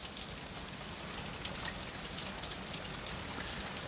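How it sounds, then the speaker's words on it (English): Rain falls on a tin roof in a steady, dense patter of drops, an even hiss with scattered brighter taps, continuous and fairly close, with no voices. "the tin roof with this rain"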